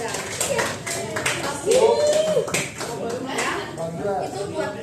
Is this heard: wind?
no